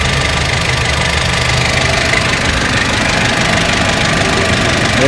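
A Kia K2700 diesel engine runs rough with low power, giving a loud, close, continuous knocking idle with a shaky, uneven vibration and no talking.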